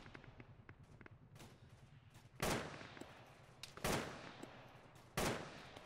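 Gunfire in a military video game: three loud, sharp shots spaced about a second and a half apart, with fainter scattered shots and clicks before them over low background rumble.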